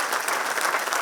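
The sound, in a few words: audience applause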